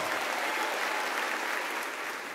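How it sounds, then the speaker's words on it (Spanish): An audience at a Spanish-language church concert honoring duo and trio string groups breaks into loud, dense, continuous applause that fills the space evenly and fades slightly at the end, with no talk over it. "Aplauso al Señor."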